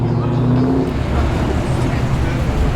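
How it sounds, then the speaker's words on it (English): A Mini drives into a busy car show, its engine note rising briefly then settling into a low rumbling pass amid crowd and traffic noise, with talking over it. "Here comes that Mini that we were looking at earlier."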